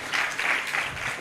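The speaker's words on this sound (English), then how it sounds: "Another round of applause for the priest." Brief burst of audience applause at an academic conference session in Pwani University, a dense steady wash of clapping for about a second with no voices over it.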